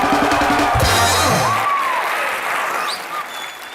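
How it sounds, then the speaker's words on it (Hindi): Loud, sustained applause from a comedy show studio audience, opening with a brief musical flourish that fades while the clapping continues steadily. "जोरदार तालियां मान साहब के लिए।"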